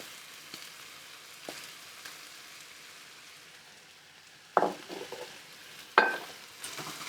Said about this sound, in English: Now I'm going to go ahead and put my meat back in.